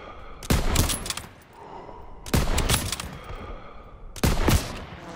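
Bursts of machine gun fire from mounted MGs in a Call of Duty: Modern Warfare firefight, three loud rattling volleys with short gaps between them and echoing battle noise underneath.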